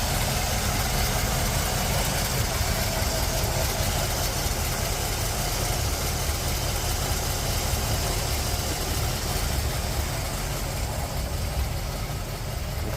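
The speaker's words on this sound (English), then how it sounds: "The car is very quiet." Steady low idle from a 1955 Chevrolet Bel Air Convertible engine, a constant even rumble with faint vibration running unbroken throughout, no voices.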